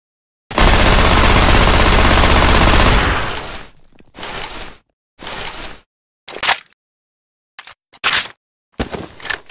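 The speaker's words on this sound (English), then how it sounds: "Going with the machine gun." A modded machine gun in Left 4 Dead 2 fires one long, loud sustained burst, then several short separated bursts with brief silences between.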